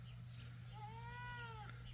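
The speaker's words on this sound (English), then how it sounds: "I think he wants to go see that goat that's screaming." Goat on a farm bleating once, a long wavering cry lasting about a second, fairly distant over a steady low hum and breezy background.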